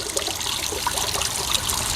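Water from an AMZtime 15W solar water pump fountain trickles and splashes continuously, a close, steady bright patter with no pauses and no talk over it.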